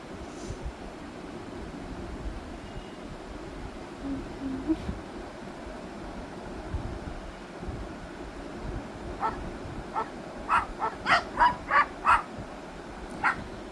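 A recorded dog barking plays back from a phone's search result: a quick run of sharp barks near the end, over steady background hiss.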